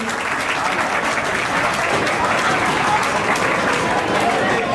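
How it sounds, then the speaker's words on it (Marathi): Loud, sustained applause from a crowd at a school reunion gathering, steady dense clapping filling the whole stretch. "जोरदार टाळ्या सरांसाठी."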